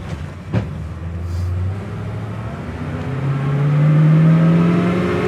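A 1967 Ford Fairlane 500 XL engine accelerating, its low drone rising in pitch as it pulls away, with a brief clunk near the start and steady road rumble throughout.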